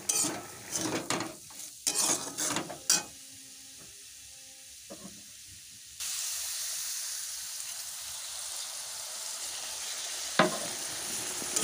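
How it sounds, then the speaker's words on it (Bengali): Spices for banana flower curry are stirred and fried in a pan with scraping utensil strokes and clinks, followed by a steady, loud sizzle as cooking continues, with one sharp knock near the end. "দিয়ে ভালো করে নাড়াচাড়া করে কষিয়ে একটু অল্প করে জল দিয়ে দেবো, নাহলে মশলাটা তলায় পুড়ে যাবে।"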